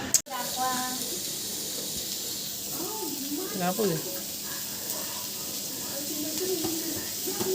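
Onion roasting in a pan in a home kitchen gives a steady soft hiss and sizzle throughout, with a sharp knock near the start and someone talking over it.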